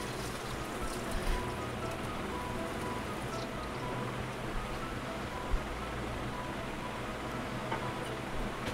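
Lilantika fish frying in a pan of oil for a Bengali fish curry: a steady, dense crackling sizzle that holds even throughout, fairly close, with no talking.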